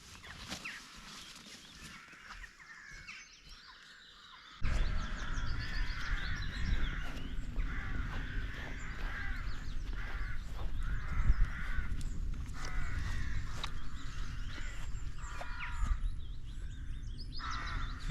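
Crows or rooks cawing outdoors on a countryside walk near Tideswell among wildflowers, harsh calls repeating continuously over a loud wind-buffeted background that jumps up a few seconds in.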